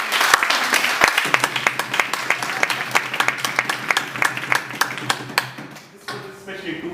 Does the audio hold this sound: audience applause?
yes